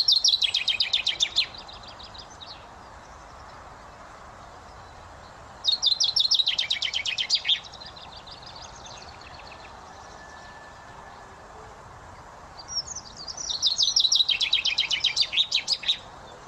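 A male chaffinch in breeding plumage sings in a garden, three bright, rapid descending phrases each ending in a flourish, separated by quiet gaps, clear and fairly close.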